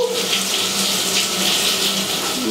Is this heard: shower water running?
yes